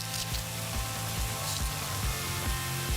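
Chopped onion with salt and pepper sweats in a pan for Italian turkey meatballs, giving a steady, soft sizzle that continues close and unbroken with low background noise.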